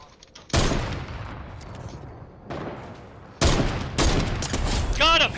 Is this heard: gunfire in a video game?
yes